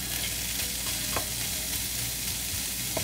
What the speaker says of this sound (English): Make sure you got all the coconut inside, and then give it a mix.